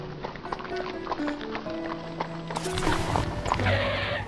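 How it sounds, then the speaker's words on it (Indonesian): Horse hoofbeats clip-clop steadily and draw nearer in a dramatized royal palace tale, growing louder toward the end, with a voice and background music running beneath. "Ada derap langkah kuda nih."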